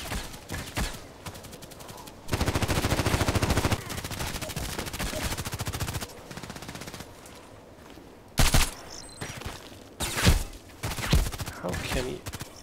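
Rapid video game gunfire in sustained automatic bursts with sharp single shots, loud and dense across the clip, with a voice speaking over parts of it.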